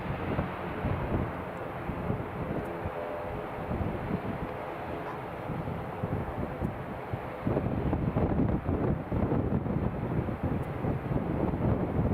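An Aer Lingus ATR 72-600 turboprop departing, heard as a steady broadband engine roar mixed with wind buffeting on the microphone, swelling louder in the final seconds.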